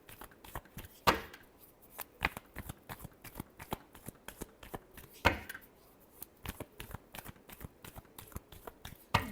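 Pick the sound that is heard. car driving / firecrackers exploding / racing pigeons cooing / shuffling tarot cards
shuffling tarot cards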